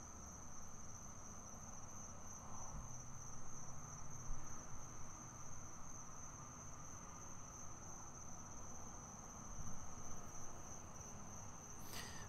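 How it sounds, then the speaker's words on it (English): Steady high-pitched insect buzzing fills a quiet outdoor night scene, mosquitoes droning continuously close by, with a constant whine and no talking. "Mosquitoes."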